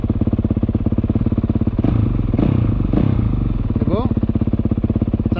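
A motorcycle fitted with a Rekluse Radius CX automatic clutch runs close by with a steady, rapid pulsing engine note, some clattering and a brief rising rev near the end.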